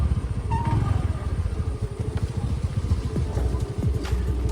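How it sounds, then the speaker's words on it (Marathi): A scooter ridden off-road gives a steady, close engine rumble with rattling clatter from the rough ground throughout. "स्कूटीवर पण ऑफरोडिंग करू शकतो आम्ही"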